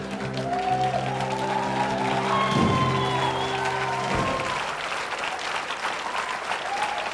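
A live comedy show audience claps politely, the applause swelling and then thinning out over several seconds, with tonal sounds and a hint of voice mixed in beneath the clapping.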